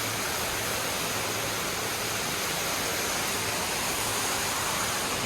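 Heavy rain pours down onto the roof of a shopping centre and is heard from inside, a loud, steady broadband rush like a waterfall that continues evenly without breaks and with no talking.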